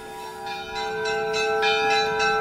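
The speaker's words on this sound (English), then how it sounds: "And these bells on the Russian church just started going, but there are other bells going too." Russian Orthodox church bells ring out at midnight on Orthodox Easter, sustained resonant tones with repeated strikes layered over a humming ring, moderately loud and steady, with other bells sounding as well.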